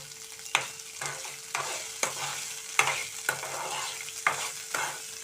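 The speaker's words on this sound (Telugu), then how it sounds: "బాగా ఈ ముక్కలు, పచ్చిమిర్చి ముక్కలు తెల్లగా అయ్యేంత వరకు వేయించుకోవాలండి" Green chili pieces fry in a pan for a Telugu-style chutney, a steady close sizzle broken by a regular run of sharp stirring scrapes about once a second, with no one talking.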